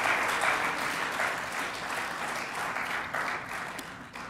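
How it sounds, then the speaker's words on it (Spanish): A church congregation applauds together, a dense, steady clapping that fills the room without a break and fades slightly at the end. "Dele ese aplauso si usted lo cree en el nombre de Jesús."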